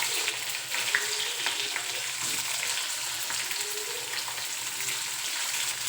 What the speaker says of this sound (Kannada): ಎಲ್ಲ ಚಟಪಟ ಅಂತ ಸಿಡಿದ್ಮೇಲೆ ನಾನು ಸ್ವಲ್ಪ ಜೀರಿಗೆ ಹಾಕ್ತೀನಿ